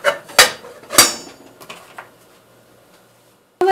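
A metal lid is set onto a cooking pot of tomato chutney with a few sharp clanks and rattles, followed by a quieter tap and a final knock.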